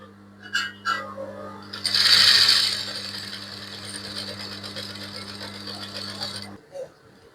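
A sewing machine runs gathering stitches on a child's ball gown: a few short clicks, then a steady, close mechanical hum for several seconds before it stops with a final click.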